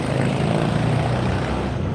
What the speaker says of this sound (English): There's that U-Haul truck.